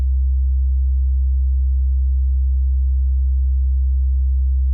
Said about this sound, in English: listen to what it's doing to this sine wave